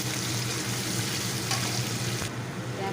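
Chopped onion and green chili fry in a wok with a loud, continuous close-up sizzle and no one talking.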